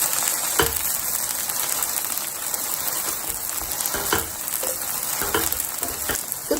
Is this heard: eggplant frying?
yes